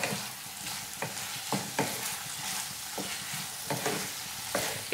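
Fried potato and cauliflower stirred into a curry in a pan, with a soft ongoing sizzle and regular scraping strokes of the spoon.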